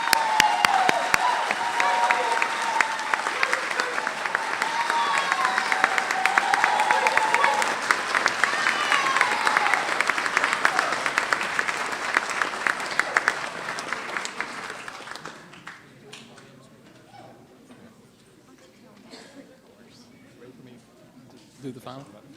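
Audience applauds graduates at a 2015 high school equivalency and adult high school graduation ceremony, sustained clapping and some cheering for about fifteen seconds before fading, with a few quieter voices afterward.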